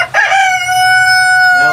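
A rooster on a farm raising egg-laying chickens crows loudly and close, one long drawn-out call after a brief cluck, with low rumbling background.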